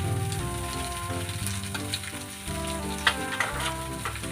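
Mustard seeds spluttering in hot sesame oil, tempered for a citron pickle, make a steady close sizzle with scattered crackles and a couple of sharper pops near the end.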